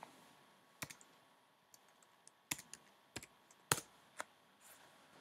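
Typing on a computer keyboard, a few faint scattered key clicks with some sharper taps, quiet and isolated with no voice.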